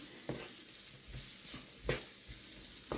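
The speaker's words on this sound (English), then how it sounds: "So we're just going to let these onions cook down for a few minutes" Onions cook down in a pan for a homemade marinara sauce, giving a faint, soft sizzle broken by a few scraping stirs at irregular moments.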